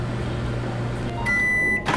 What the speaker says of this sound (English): Close the door and let me get a shot of the microwave running.